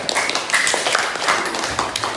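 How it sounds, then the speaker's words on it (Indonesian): A classroom group claps for group 3, a short burst of scattered, uneven hand claps at moderate distance, with no talking over it. "Tepuk tangan untuk kelompok 3."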